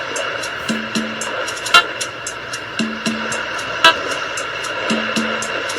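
A drum-heavy song plays through a modded 1950s radio rebuilt as a PC speaker, with regular thumping beats, sharp clicks and a tinny, boxy tone, steady and continuous with no voices.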